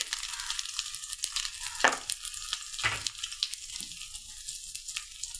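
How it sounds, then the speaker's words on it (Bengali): Chopped tomato, potato and spices frying in a pan, heard as a quiet sizzle with a couple of sharp scraping stirs and light rustling, close but faint, no talking. "একটু নেড়ে চেড়ে নিই।"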